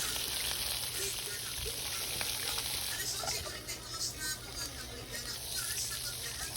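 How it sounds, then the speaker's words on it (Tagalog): Fish frying in oil in a wok (karahi) for adobong isda, a steady close crackling sizzle with bubbling pops that thins slightly midway, continuing throughout. "Sa karahi et kay butangan natog mantika. Then iprito na nato ang isda."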